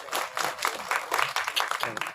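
An audience applauds at a film's trailer and audio launch event, a dense burst of many hands clapping together at steady volume with no voices rising above it.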